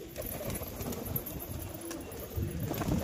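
A pigeon coos softly in a quiet outdoor setting, low throaty murmurs repeating faintly over a hushed background, with a couple of slightly clearer coos toward the end.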